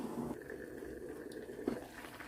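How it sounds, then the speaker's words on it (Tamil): A vegetarian curry simmers at a steady boil in a pot, with a soft continuous bubbling and low liquid rumble, close and fairly quiet, with a couple of slightly louder pops. "இப்போ குழம்பு வந்து நல்லா கொதிச்சு கொண்டிருக்கு"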